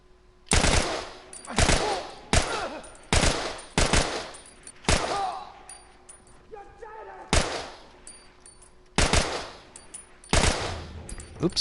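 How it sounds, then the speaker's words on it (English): Video game gunfire in The Last of Us: about eight loud, sharp shots fired one at a time at roughly one-second intervals, each with a short echoing tail, over a faint steady background tone. "I can shoot too"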